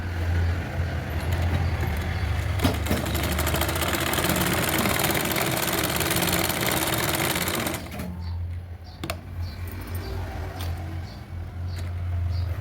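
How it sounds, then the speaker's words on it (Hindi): A sewing machine runs steadily while stitching the hem of a sleeve on a frock made from an old saree, whirring loudly and continuously for about eight seconds before stopping and leaving quieter background noise. "एक बार दोबारा से फिनिशिंग की सिलाई लगाते हुए हम इसको सिलेंगे"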